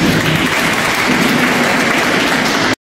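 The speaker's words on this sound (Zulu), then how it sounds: "Sicela sishayele ihlombe." A congregation applauding at a church service, a loud, dense, continuous wash of clapping from many hands that cuts off abruptly at the end.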